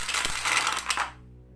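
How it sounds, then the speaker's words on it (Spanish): Several dice clattering down through a plastic dice tower during a World of Warcraft board game, a loud rattling tumble of knocks lasting about a second before stopping abruptly, followed by a quiet room. "vamos a la torre de dados y a ver qué pasa."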